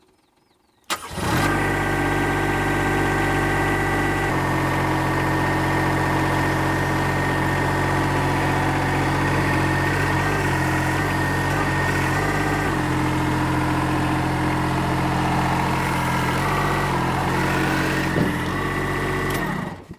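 A KPC mini dumper engine turns over and catches after about a second, then idles loudly and steadily close by for the rest of the time before cutting off at the end.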